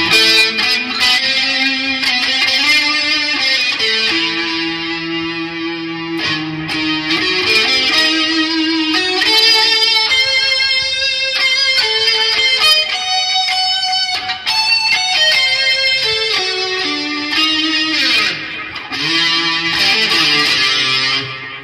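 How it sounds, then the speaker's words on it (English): Electric guitar played through a Sonicake Matribox II multi-effects unit on its heavy Golden Age reverb setting: a loud, continuous run of sustained, melodic notes with a long wash of reverb trailing each phrase. "Heavy reverb, that's a nice sound. Golden Age, it's called."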